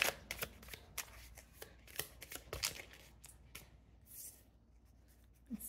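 A Lucid Dream Tarot deck is shuffled by hand at close range, giving quiet, quick papery riffles and soft flicks with short pauses between bursts.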